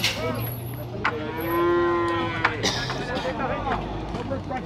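At a livestock fair in Tabira, Pernambuco, a cow lets out one loud, drawn-out moo close by, while people chatter and call out around it amid general market bustle.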